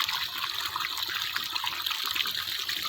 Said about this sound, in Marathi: ऊस भिजवायला म्हणजे पाणी सोडाय